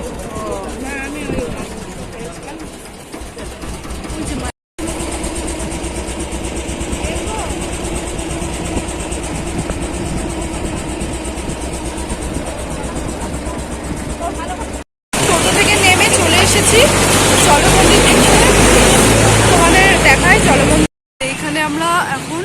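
A boat engine drones steadily during a ride in Nabadwip, with people talking over it; the engine grows noticeably louder and rougher partway through.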